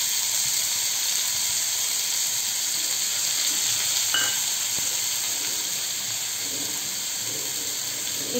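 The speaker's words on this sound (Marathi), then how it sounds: "आता आपण भोपळा, गाजर आणि लाल भोपळा तळून घेऊया थोडासा तुपामध्ये" Pumpkin and carrot fry in ghee with a steady hiss and sizzle at even loudness. A couple of faint clicks from stirring break in midway, and nobody speaks.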